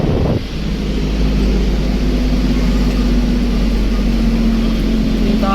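A goods vehicle's engine runs steadily throughout as it is driven, with a constant low hum, a sustained drone and heavy broadband road and wind rumble at close range.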